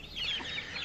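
Swedish flower hen chicks and hens inside a city coop give soft clucks and high chirps, one brief cluster of calls close by with no talking.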